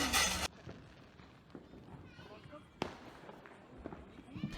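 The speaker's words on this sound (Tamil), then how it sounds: "இவங்கெல்லாம் பட்டாசு வெடிக்க ஆரம்பிச்சிட்டாங்க" Sharp scattered bangs of Diwali firecrackers, one loud burst at the start and another crack later, with smaller pops amid a busy, noisy background.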